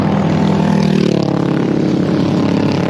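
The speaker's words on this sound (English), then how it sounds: "Wow, it's loud with those motorcycles" Loud motorcycles pass along a city street, their engines producing a dense, continuous rumbling roar that stays close and heavy the whole time, with no talking.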